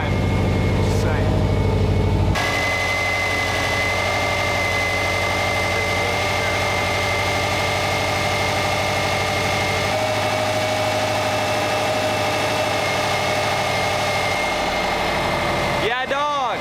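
A Subaru engine idles steadily nearby, a constant low hum and drone that holds for the whole stretch, with a louder burst at the start and people talking over it.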